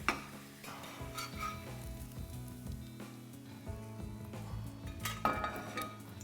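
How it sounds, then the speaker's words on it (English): Thin potato slices for Pommes Anna sizzle steadily in a pan while utensils clink and scrape against the metal, close and moderately loud, with no talking. "Maybe give it a few seconds more on the fry."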